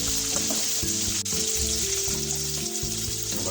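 Onion and garlic fry in oil for okra tamarind curry, a dense, steady sizzle with a low bubbling undertone and one brief tap, close and constant.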